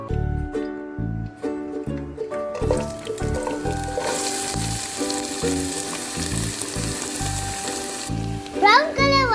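Onions fry in oil with cinnamon, cardamom and other spices while being stirred until brown, a loud continuous sizzle that rises after a few seconds, with tonal background sound at the start and a brief voice at the end.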